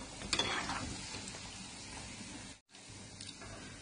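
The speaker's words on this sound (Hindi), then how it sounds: "छोटी छोटी पकौड़ियां हम बना के इसमें डालते जाएंगे और हमें इसे गोल्डन फ्राई करना है।" Small batter pakoras deep fry in hot oil with a soft bubbling sizzle and a few stirring clinks, quiet and close, briefly cut off before resuming with no talk.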